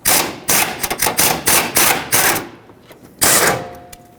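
A power tool rattling off 13mm mounting bolts from the battery tray of a 2012-2020 Nissan Pathfinder, several loud bursts of rapid hammering in close succession, then a brief pause and one final burst.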